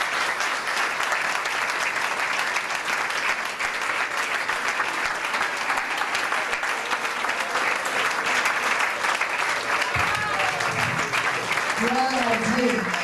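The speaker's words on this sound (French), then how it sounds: "Sous vos acclamations, nous l'attendons ici." A large audience claps loudly and continuously, and a voice starts speaking over the applause near the end.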